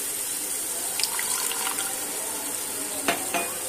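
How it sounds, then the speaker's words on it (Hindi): Water runs from a tap, a steady close trickle with a few clinks, while masala is roasted in a pan for pasanda salan and small amounts of water are added. "थोड़ा थोड़ा पानी डालकर हम मसाले को भूनेंगे"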